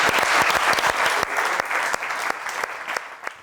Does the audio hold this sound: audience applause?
yes